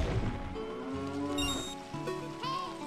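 A cow moos repeatedly in Zelda: Ocarina of Time, low drawn-out game lowing calls with musical overtones, clear and close with no talk over them.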